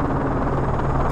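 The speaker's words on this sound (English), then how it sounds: "Enemy chopper closing on your position." Enemy helicopter in Call of Duty Modern Warfare 3 closing in, a steady loud rotor drone with low thumping, continuous and alone.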